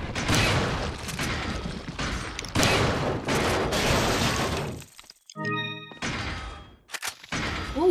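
Gunfire in Resident Evil 4 rings out in a dense string of sharp cracks and booms for several seconds, breaks off briefly, then returns with a few scattered loud shots.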